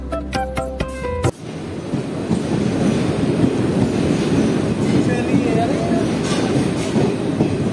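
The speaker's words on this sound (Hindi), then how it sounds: "अपनी ट्रेन जो है दोस्तों जोगबनी पहुंचने ही वाली है।" Jogbani–Saharsa Intercity Express running on the tracks near Jogbani, a steady loud rumble of wheels and carriages with wind buffeting, preceded by a brief horn-like tone at the start.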